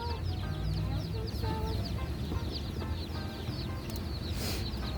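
Backyard egg-laying and meat chickens cluck and chatter continuously at close range, with dense overlapping calls throughout and some people talking nearby.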